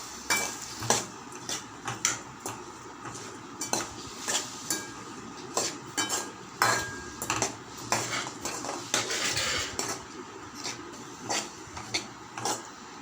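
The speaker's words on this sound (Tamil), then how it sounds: "இப்போ இதை நல்லா வதக்கிக்கலாம்." Garlic with oil, chilli powder and salt being sautéed in a pan, heard mainly as a spoon scraping and knocking against the metal in repeated irregular strokes over a faint background.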